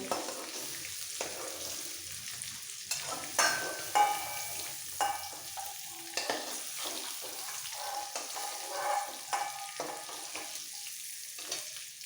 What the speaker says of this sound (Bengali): ব্রাউন করে ফুলকপিগুলো ভেজে তুলে নিতে হবে ফুলকপি ভাজা হয়ে গেছে